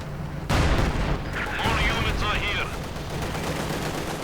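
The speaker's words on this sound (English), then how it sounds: "Machine guns unleashed." Machine gun fire in a World War II strategy video game, bursts of rattling shots after a sharp onset, with a voice talking over the battle.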